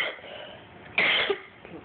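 A person coughs once, a short loud burst near the microphone against a quiet room with faint background hiss.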